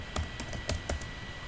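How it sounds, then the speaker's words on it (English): Keys clacking on a computer keyboard during programming, a few sparse, crisp taps close by over a steady background hiss. "So start typing one more program."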